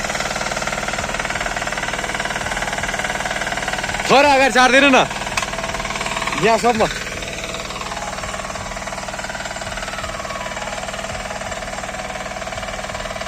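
A farm machine's engine, just started while a field is prepared for sowing kodo millet, runs steadily and close, with a rattling knock throughout as people talk over it.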